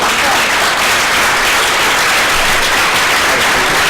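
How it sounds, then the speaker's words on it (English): Dense, steady applause from a large crowd at a city council candidate forum, loud and continuous throughout with no pauses. "Please give them another round of applause"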